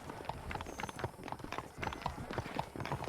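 In the Red Dead Redemption video game, horses' hooves clip-clop at a steady walking rhythm, moderately close, over a faint background bed.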